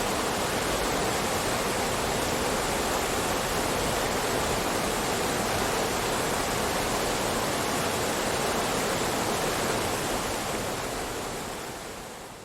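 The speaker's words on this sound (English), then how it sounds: "A wall of water surges down the river carrying huge amounts of debris with it." Flash flood water surges down a debris-laden river as a loud, unbroken roaring rush of churning water, dense and close, fading slightly at the very end.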